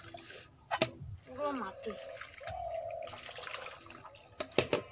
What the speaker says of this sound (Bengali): নাকি 4-5 ধোয়া দিতে হবে শাকগুলোকে।